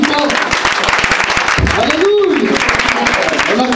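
Loud, sustained congregation applause at a Sunday thanksgiving church service, steady clapping from a full room mixed with shouting and cheering voices throughout.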